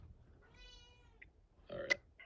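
A cat gives a short meow close by, followed by a brief, louder nasal burst of sound. The room around it is otherwise quiet.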